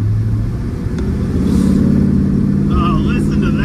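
A 1961 Chrysler 300G with a 413 long ram V8 pulls hard under acceleration, its engine droning at a steady pitch because the transmission fails to kick down to second; loud and close, with a voice briefly over it.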